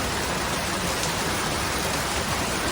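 Steady rain falls outdoors in Singapore, a constant, even hiss of drops with no breaks or voices, moderately loud throughout.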